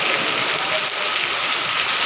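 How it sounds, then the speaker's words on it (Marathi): Early-morning rain falls in a dense, even hiss, loud and close with no breaks. "बघा कसा पाऊस आहे"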